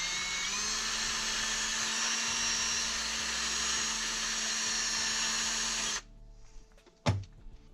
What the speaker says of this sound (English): I'm gonna clean these off with a wire wheel because there's got some corrosion in the threads